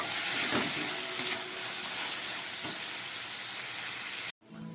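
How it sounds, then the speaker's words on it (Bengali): Spice-rinsing water is poured into a hot pan of egg do-pyaza gravy, setting off a loud, steady hissing sizzle that holds for several seconds before cutting off abruptly. "মশলা ধোয়া জলটাও দিয়ে দিচ্ছি।"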